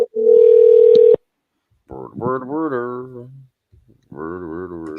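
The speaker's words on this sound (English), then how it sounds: "Oh wait, it's still ringing." A phone call's ringing tone: one long steady beep lasting about a second, then silence, with people talking between rings.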